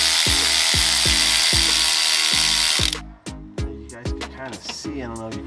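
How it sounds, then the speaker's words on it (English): An electric ratchet whirs loudly and steadily while working on the serpentine belt of a 2011 Toyota Corolla, then stops near the midpoint, leaving short clicks and tool handling sounds close by. "this is where the electric ratchet comes in."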